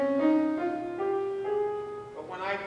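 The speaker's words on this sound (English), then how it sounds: "If I played a major scale, a flat major scale, it would be like this." A flat major scale played on a melodic instrument, each note sustained with rich harmonics, stepping upward one tone at a time in a steady, moderately loud run with no voice over it.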